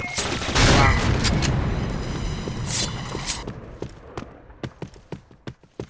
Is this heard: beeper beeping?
no